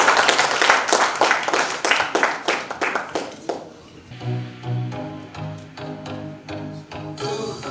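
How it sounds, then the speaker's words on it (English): Audience clapping at an HR excellence awards event for a performer about to present a mashup, loud crowd claps for the first few seconds that thin out and give way to music starting with a sung melody. "So let's put a round of applause for him and encourage him."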